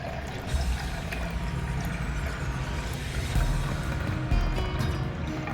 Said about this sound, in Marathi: वरचं पूर्ण काढायचं आहे पाणी ह्याच्यातलं